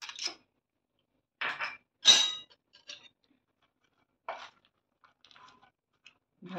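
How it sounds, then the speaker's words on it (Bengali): Makhana bhel with tamarind chutney is mixed in a bowl, giving scattered soft clinks and crunchy scrapes of a spoon against the dish, separated by quiet gaps, close and fairly faint. "ভালো করে মিশিয়ে নিচ্ছি।"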